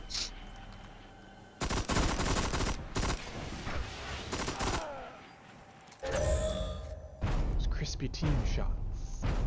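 Bursts of rapid gunfire from the video game Destiny ring out in several loud blocks separated by quieter gaps, with a player talking over the action.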